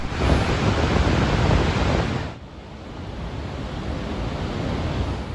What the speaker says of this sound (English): Vøringsfossen is truly spectacular and probably the most famous waterfall in all of Norway.